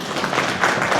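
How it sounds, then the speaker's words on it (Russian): A school audience claps its hands at a math and physics week event. The applause is steady and continuous, with a dense patter of many hands close by. "В ладоши хлопайте,"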